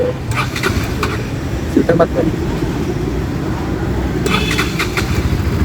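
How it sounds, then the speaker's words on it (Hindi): A 2026 Bajaj Pulsar NS200 motorcycle engine cranks and catches, then settles into a steady idle rumble amid background noise. "तो बाइक हो चुकी है फाइनली स्टार्ट।"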